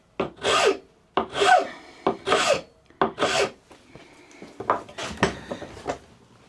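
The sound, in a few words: rasping wood to re-profile a saw handle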